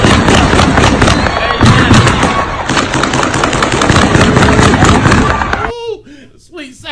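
Rapid bursts of gunfire crackle outside in broad daylight, dense and loud with sharp repeated cracks, then stop abruptly as a voice speaks over the fading echoes.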